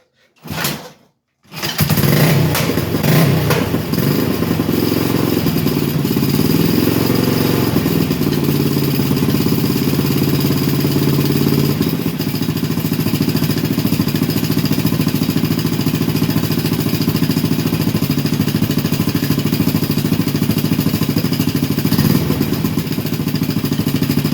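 A BSA B25 single-cylinder motorcycle is kicked over and catches, then settles into a loud, steady, close-up chugging run that continues unbroken to the end, with no talk over it.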